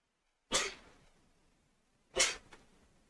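Two sharp sneezes about a second and a half apart, each a sudden loud burst that fades quickly, with a smaller catch of breath after the second; close by and otherwise quiet.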